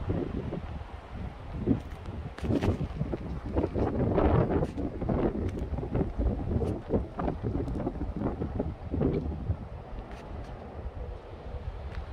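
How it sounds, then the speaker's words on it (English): Wind blows outdoors in gusty, rumbling swells against the microphone, moderately loud and continuous for the whole stretch with no talking. "Do you hear that wind?"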